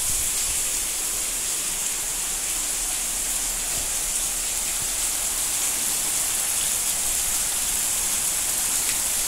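Steady heavy rain falls on a small farm, a dense, even hiss that stays constant throughout with no voices.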